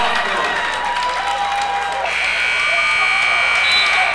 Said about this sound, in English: Shot no good at the buzzer